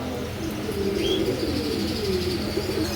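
A pair of red pet birds coos inside a home, with soft, steady dove-like calls and a few chirps close by and no one talking.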